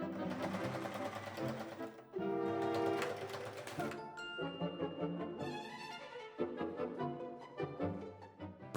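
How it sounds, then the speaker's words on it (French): A sewing machine stitches the sides and bottom of a suede-fabric handbag in several bursts of steady mechanical whirring, clear and close, with short pauses between runs and no voices. "piquez les côtés et le bas de l'ouvrage à 1 cm du bord"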